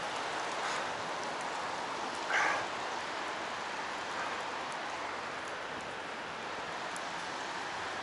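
Autumn rain falls steadily during a bicycle ride through the streets of Kirillov, a faint, even hiss of drops with a brief louder patter partway through.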